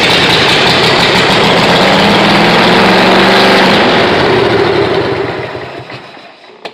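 An engine with its muffler cut off runs loud, raw and steady close by, then winds down and fades out over the last few seconds before a brief click.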